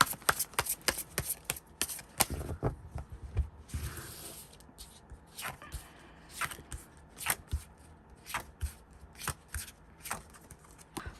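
Tarot cards being shuffled and drawn produce quiet, intermittent flicks and sharp riffling snaps, close by and scattered irregularly across the stretch, with no voices.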